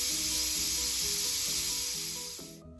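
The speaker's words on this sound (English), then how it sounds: "So I'm just pushing the button in to make sure all the pressure is released." Steam pressure hissing out of a Pampered Chef Quick Cooker after cooking pumpkin, a loud, steady high-pitched rush that fades slightly and then cuts off abruptly near the end.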